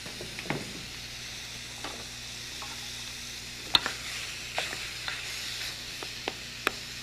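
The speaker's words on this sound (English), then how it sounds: "and let it start to fry" Meat fries in a pan on high heat, a soft continuous sizzle with occasional sharper pops and crackles, fairly quiet and close with no talking.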